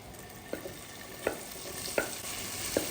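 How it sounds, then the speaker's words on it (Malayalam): Corn fries in hot oil in a pan with a steady sizzling hiss, broken by four evenly spaced stirring scrapes, close and with no talk. "നമുക്ക് ഇതിലേക്ക് നമ്മുടെ കോൺ ഇട്ട് കൊടുക്കാം"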